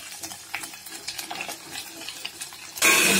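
Cumin and mustard seed tempering with crushed garlic in a pan, small clinks and light stirring scrapes followed by a sudden loud sizzle burst near the end.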